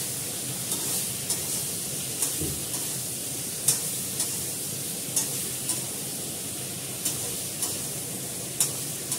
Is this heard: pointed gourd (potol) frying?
yes